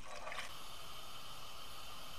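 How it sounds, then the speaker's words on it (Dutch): Broth pours steadily into a pan, a soft continuous splashing and trickling hiss with a brief brighter burst at the start, no voices. "Dan gaat beetje bij beetje de bouillon erbij."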